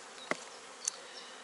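Laying worker honeybees at an open hive, a faint steady background hum with two brief close buzzes as single bees fly past.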